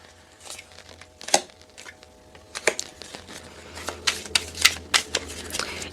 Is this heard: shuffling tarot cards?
yes